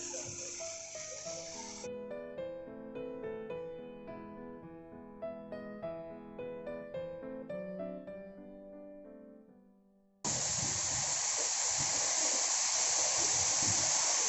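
Music plays for about ten seconds, then a waterfall near a café in Mae Taeng, Chiang Mai, cuts in as a loud, steady broadband rush that fills the rest of the clip.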